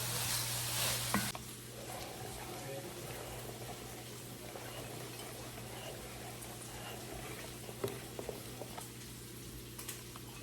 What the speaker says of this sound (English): we're gonna cook this until the sausage is all the way cooked through and the vegetables are translucent and soft